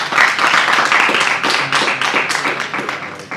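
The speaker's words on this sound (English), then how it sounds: "So let's applaud ourselves." A studio audience claps for themselves at a TV recap show, a brisk burst of many hands with distinct individual claps audible, close and loud, slowly thinning toward the end.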